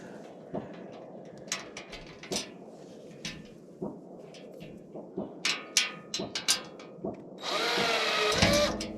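A power drill with a Phillips No. 2 bit drives screws while parts of a Woodland Mills sawmill are assembled. Scattered light taps and clicks come first, then a rising, sustained drill whine near the end.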